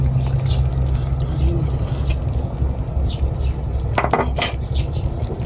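Beaten eggs, five of them, go into a pot of lomi being cooked as a snack, with utensils clinking against the pot and a brief liquid splash near the end.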